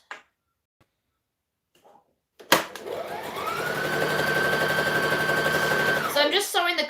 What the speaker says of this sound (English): So I'm just sewing the collar together right now.